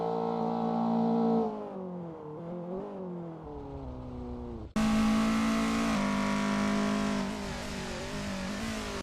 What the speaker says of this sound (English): Jeevan Davis is on their first flying lap.